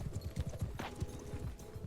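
Horse hooves pounding across the ground in a video game battle, a rapid, continuous clip-clop rhythm of many hoofbeats, fairly close and steady, with a brief burst of battle noise partway through.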